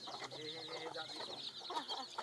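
Local-breed chickens on a small Nepali poultry farm, a busy overlapping flock of clucks and soft calls at close range, continuous throughout.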